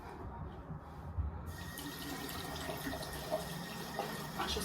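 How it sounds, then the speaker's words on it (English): Tap water runs steadily into a sink during handwashing, a soft, continuous hiss heard faintly and up close, with no talking over it. "Let's wash my hands now."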